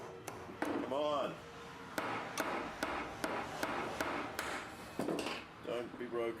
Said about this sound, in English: I just carefully knocked in these two dowels, which should hold the axe head in place.